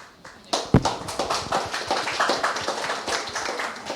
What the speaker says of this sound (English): I hear Yurchishin who is applauding